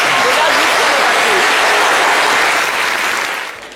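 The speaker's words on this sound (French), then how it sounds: "On peut applaudir pour lui, on va voir." A loud, dense round of audience applause fills a literary event honouring a young writer, swelling close and steady before tapering off at the end, with a voice faintly underneath.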